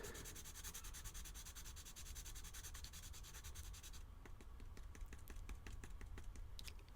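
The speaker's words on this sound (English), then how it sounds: "scratching it along the wood, the sanding block that you are given with it" A woodless graphite pencil scratched back and forth along a wooden sanding block, a quiet, close, rapid rhythmic rasping that turns into sparser separate strokes partway through.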